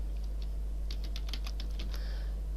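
Text typed into a table on a computer keyboard: a short burst of quick close key clicks over a loud steady low hum, no talking.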